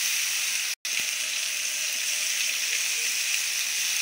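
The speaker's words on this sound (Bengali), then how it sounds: "এবার একটু আমি হালকা করে মশলাটা কষিয়ে নেবো ভালো করে।" Onion and garlic paste with spices sizzles in a pan, a steady loud hiss that drops out for an instant near the start, then continues without talking.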